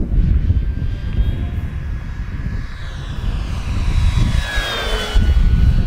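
An FMS V8 P-51 Mustang Red Tail radio-controlled model plane flies by outdoors, its electric motor whining loud and near with pitch shifting as it passes, over steady wind rumble.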